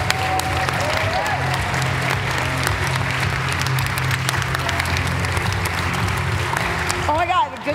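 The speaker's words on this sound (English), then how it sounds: "Can we give a big round of applause to the organizers?" Sustained applause from a large audience, steady and loud throughout, with a few cheers rising over the clapping near the end.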